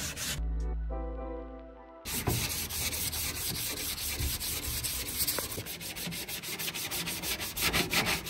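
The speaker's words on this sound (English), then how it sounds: "we are now sanding it down with a grade 60" After a short tonal hum, hand sanding of hardened filler on a Subaru Impreza bumper with 60-grit paper begins: close, steady, gritty rasping strokes that continue to the end.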